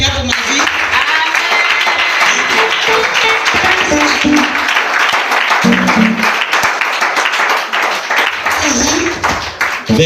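A church congregation applauds the Lord during a sermon, with dense continuous clapping carrying through, cheers and voices mixed in as the applause rolls on for several seconds.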